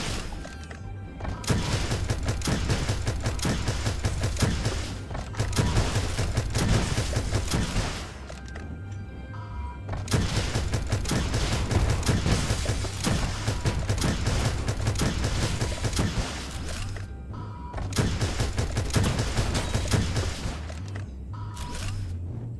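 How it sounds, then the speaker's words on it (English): Missile launcher in the space game Starbound, firing like an autocannon: dense, loud bursts of rapid booming shots in long sustained volleys, broken by brief pauses, continuing for over twenty seconds. "This missile launcher is so much more of like an autocannon to me than like a proper missile"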